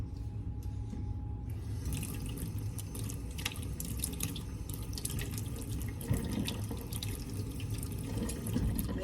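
Water runs from a tap for a peanut pork sauce, a steady broadband splashing stream that carries on nearly unbroken for several seconds after a brief quieter start.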